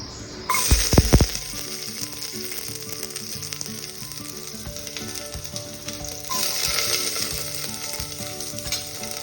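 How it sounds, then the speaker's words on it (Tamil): Sliced onions and curry leaves dropped into hot oil with mustard seeds for tempering a village-style mutton kulambu, a loud close sizzle that bursts up at first and then keeps frying steadily, with a few scraping stirs. "தாளிக்கிறதுக்காக நான் வந்து வெங்காயமும் கருவேப்பிலையும் போடுறேன்."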